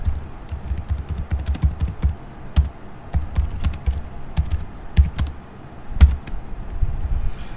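Computer keyboard typing code, quick irregular key clicks and taps in bursts with brief pauses, close and clear with no talk over them.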